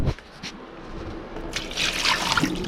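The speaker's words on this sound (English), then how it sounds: "dump half that out" Water poured out of a cooking pot while making egg drop soup, a short close trickle and splash building to a steadier pour, with no voices.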